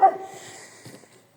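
A dog gives one short bark at the start, followed by faint whimpering and a soft yip after a pause, close by in a quiet room.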